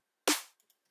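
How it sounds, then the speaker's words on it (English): A single layered Echo Soundworks snare drum sample, one sharp, bright crack with a short decaying tail, followed by two tiny faint ticks, isolated against silence. "That looks like an Echo Soundworks snare."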